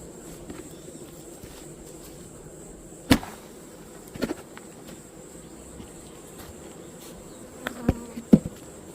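Honeybees swarm in the air around a hive being raided by giant hornets, a steady low buzzing hum broken by a few sharp clicks and taps.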